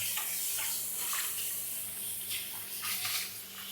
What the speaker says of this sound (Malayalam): ഫിഷ് മുറിച്ച് കഴിഞ്ഞു ഇതൊന്ന് കഴുകിയെടുക്കട്ടെ